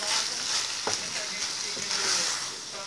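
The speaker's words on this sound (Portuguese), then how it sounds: "Como se fosse refogar aqui o feijão" White beans sauté in a hot pan for feijão tropeiro, giving a steady bright sizzle throughout with a few stirring clicks, and a voice talks faintly under the frying.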